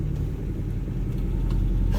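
A 1979 Toyota Corolla KE30 with a 1.2L engine running while driving, with a steady, loud low engine rumble and road noise throughout and no talking.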